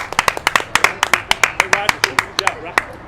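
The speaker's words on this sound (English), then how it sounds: "Everybody clapping here in the park." Sharp, distinct handclaps from fans at a Missouri Fastpitch Wiffleball League game in a park, a quick uneven rhythm of close claps from a small group, with a voice talking underneath.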